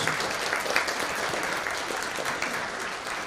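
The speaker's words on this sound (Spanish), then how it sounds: "Recibámoslo con un fuerte voto de aplausos." An audience applauds at a book presentation at the UNSA in Arequipa, a full, steady burst of clapping from a seated crowd, fairly close and evenly sustained.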